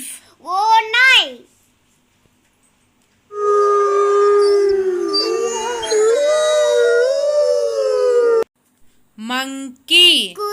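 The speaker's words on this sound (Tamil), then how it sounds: "Wolf." A wolf's long, sustained howl rising and wavering, loud and clear, with a voice speaking briefly before and after it.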